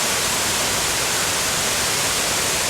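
Benlister Falls on the Isle of Arran pours white water in a dense, unbroken roar, loud and close, with no pauses or other sounds breaking through.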